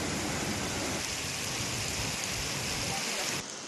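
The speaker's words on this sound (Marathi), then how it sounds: "मुंबईमध्ये पहाटेपासूनच रिमझिम पावसानं हजेरी लावलेली आहे" Light drizzle falling in Mumbai's Dadar area at dawn, a steady soft hiss of rain that runs evenly throughout before dropping slightly quieter near the end, heard alone with no talk.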